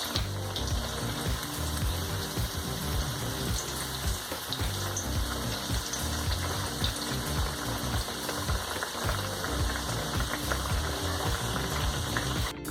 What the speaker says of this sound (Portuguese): Fritar bem de ambos os lados.